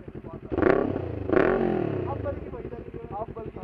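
A motorcycle engine revved on a hill group ride, giving two sharp throttle blips close up and then a steady idling rumble.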